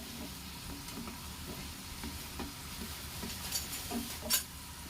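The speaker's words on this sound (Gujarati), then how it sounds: "મુઠિયાને સરસ મજાના આપણે શેકી લેવાના છે તેલમાં" Besan muthiya dumplings frying in hot oil give off a steady, soft sizzle with faint crackles, a few brighter pops and stirring clinks near the end.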